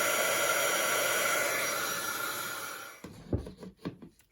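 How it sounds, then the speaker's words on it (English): A heat tool blows a steady, loud hissing whoosh while melting embossing powder on a stamped craft image, fading over a few seconds before cutting off into a few soft thumps and rustles. "we're going to go ahead and use our heat tool"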